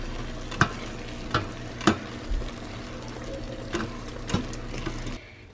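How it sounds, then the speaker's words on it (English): A spoon stirs cooked apple, cinnamon and raisin oatmeal inside an Instant Pot, making a soft, steady scraping and bubbling bed broken by several dull knocks against the pot. "it is done. Let's give it a stir."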